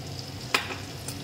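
Roasted spice mix tipped into hot oil for hog plum pickle: a soft, steady sizzle broken by one sharp clatter of the spoon, close and without talk.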